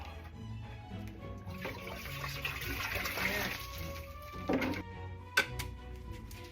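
A basement sump pump runs with water squirting out the side of its housing, making a steady gushing, splashing wash of moderate level with a couple of brief knocks.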